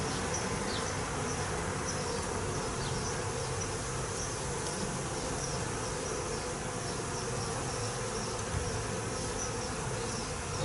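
A frame lifted from a honey bee hive during inspection hums with a thick, continuous close buzz from the many bees on it, steady in level, with occasional faint chirping ticks above it and no voices.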